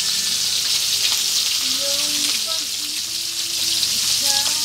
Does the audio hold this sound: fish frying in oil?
yes